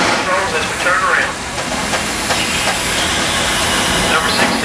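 Coal-burning steam locomotive No. 610 of the Tennessee Valley Railroad turning slowly on a turntable, with a steady loud hiss and rumble of steam and machinery and faint clanks, continuous throughout.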